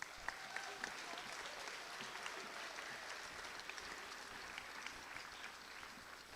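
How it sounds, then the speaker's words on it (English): Audience applause for student musicians at a middle and high school instrumental concert, a steady, faint and distant patter of many hands clapping throughout. "You give them a round of applause"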